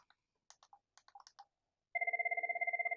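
A Cisco IP phone during a test call, a few quiet clicks and button taps followed by a loud, rapid electronic warble ring that starts abruptly and continues.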